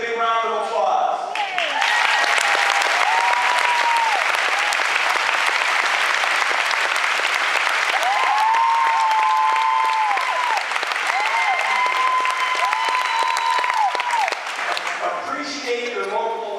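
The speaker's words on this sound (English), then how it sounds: "stand up so we can give you a big round of applause" A college auditorium audience gives sustained, loud applause for local elected officials, dense clapping filling the room, with cheers or whistles rising over it and speech at the beginning and end.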